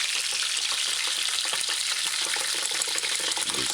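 Chicken coconut stew sizzles steadily in a hot pot while being stirred, a dense continuous frying hiss with faint scraping, close and fairly loud throughout with no talking.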